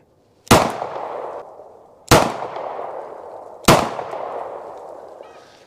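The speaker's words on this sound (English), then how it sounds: "Finger on the trigger, gonna slow pull." A concealed carry handgun fires three sharp, loud shots at a target about 20 feet away at an outdoor range, evenly spaced about a second and a half apart, each followed by a long echoing decay, with no talking.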